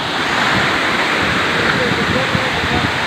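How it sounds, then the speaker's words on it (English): Waterfall in the Philippines, a loud, steady roar of falling water close by that fills the whole moment without a break. "Go closer to the waterfall."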